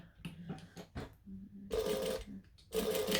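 A sewing machine top stitching along the fold of a pocket, short stops and starts giving way to two longer loud whirring runs, close by with no voices.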